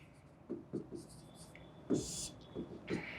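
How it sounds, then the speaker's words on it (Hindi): Pen scratching on paper while a math solution is written out, with short faint strokes and soft taps, close and quiet, set against a background hiss. "सॉल्यूशन लिख रही हूँ मैं यहाँ पर"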